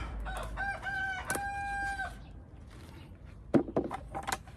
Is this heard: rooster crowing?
yes